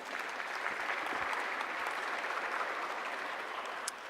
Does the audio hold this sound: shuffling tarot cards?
no